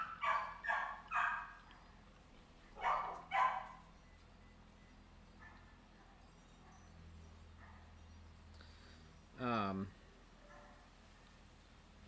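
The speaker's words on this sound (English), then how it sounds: "Lots of dogs wanting to talk." Several dogs bark nearby, each time in short bursts of a few sharp barks. A last louder volley comes near the end, with quiet stretches in between and no talk.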